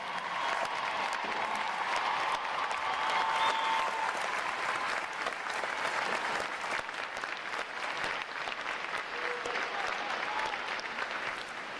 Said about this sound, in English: Would all our veterans please stand so we can give you a round of applause